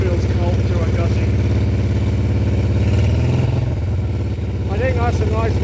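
A Moto Guzzi Eldorado motorcycle idles nearby through a Brooklands exhaust can, a steady mellow low throb with a slight dip and recovery midway; a person talks over it throughout.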